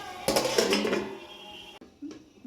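A lid set down on a cooking pot in a home kitchen where prawns and taro stolons are cooking, giving a near metallic clatter and rattle followed by quieter handling sounds.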